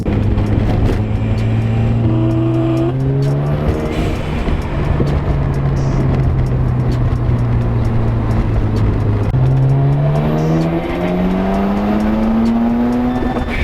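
A Mazda FD RX-7 rotary sports car drives and revs steadily, its engine note rising and falling through gear changes in a loud, continuous drone with a faint tire squeal at moments.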